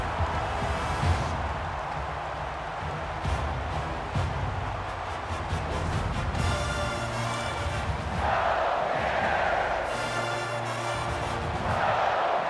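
A packed stadium crowd in the NCAA Football 22 video game roars continuously, a dense, loud wall of cheering and shouting that swells in places, with no commentary over it.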